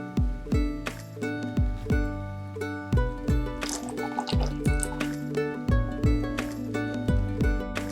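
Coconut milk being poured for a green tea and blueberry smoothie makes a run of wet drips and glugs, fairly close and steady, with no talking.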